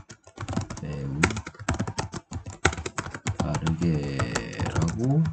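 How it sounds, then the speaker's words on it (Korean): Rapid clicking of keys on a computer keyboard, close and uneven in rhythm, with a voice speaking over the typing. "그래서 이렇게, 여기다 타이핑을 하는 겁니다."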